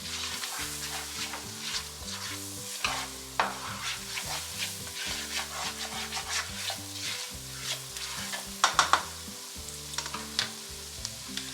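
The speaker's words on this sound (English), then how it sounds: "We're gonna go ahead and we're gonna add in some flour. And we're gonna give it a good mix." Flour being stirred into softened onions in a soup pot makes soft scraping and faint sizzling, quiet and close, with occasional louder clinks of the utensil against the pot.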